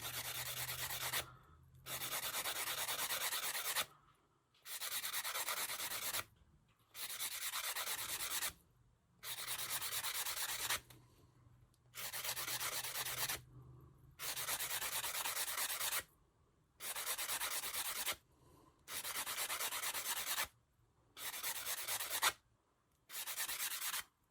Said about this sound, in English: I'm going to sand it down just a little bit more.